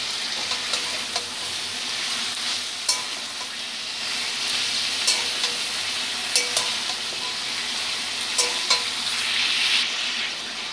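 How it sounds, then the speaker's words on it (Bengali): Sliced ridge gourd and potato with a little turmeric fry in a pan: a steady, close sizzle with occasional sharp stirring clicks and scrapes throughout, no voices. "ঝিঙেটাকেও আলুর সাথে কিছুক্ষণ ভেজে নেব।"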